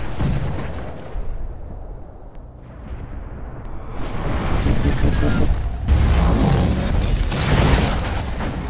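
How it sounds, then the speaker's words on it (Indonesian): A loud, deep rumbling blast from a factory swells and roars on for several seconds, followed by a second surge of booming noise. "ledakan susulan yang berasal dari arah pabrik"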